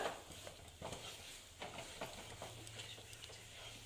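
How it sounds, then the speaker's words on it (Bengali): Thickening chana dal halwa is stirred in a pan, soft scraping strokes repeating at an uneven pace with a faint sizzle beneath, close and quiet. "এইভাবে সুন্দর করে নাড়িয়ে নিচ্ছি এটা প্রায় শক্ত হয়ে আসছে"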